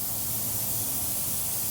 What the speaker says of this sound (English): Now we can spray all on the top.